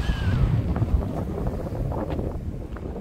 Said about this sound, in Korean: 지금 바람이 좀 불고 있습니다